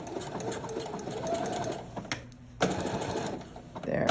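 A sewing machine fitted with a rolled hem foot stitches thick fabric in loud, steady runs, pausing briefly midway before the motor resumes its fast rhythmic whir.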